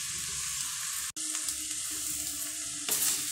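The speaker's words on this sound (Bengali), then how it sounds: "চিনি দিয়ে এবার আমি ভালো করে ভাতটাকে ভেজে নেব" Vegetable fried rice with soy sauce, chili sauce, salt and sugar is stir-fried in a pan, giving a steady close sizzle with scraping stirs throughout, a brief dropout near the start and a louder burst toward the end.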